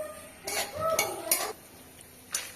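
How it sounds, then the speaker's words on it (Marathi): Peanuts roasting in oil in a wok for poha chivda, heard as a few separate scraping and clinking stirs of a utensil against the pan, with brief soft rattles spread over a couple of seconds. "कढईत तेल टाकून शेंगदाणे भाजून घेऊ"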